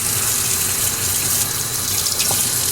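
Water runs steadily from a tap to rinse a sharpening stone after lapping, a close, even gushing splash that lasts throughout with no voices.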